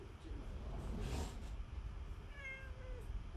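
A cat meows in a short, rising-and-falling call near the end, over a steady background hum and faint room noise.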